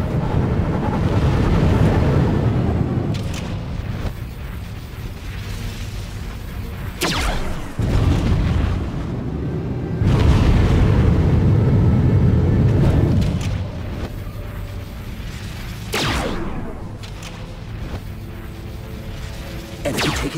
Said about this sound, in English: Brace for missile impact.